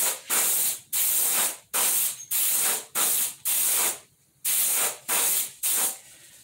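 An Iwata Eclipse dual action airbrush sprays paint in nine short bursts of steady hiss, each about half a second long, separated by brief gaps. It sounds close and loud, with no talking.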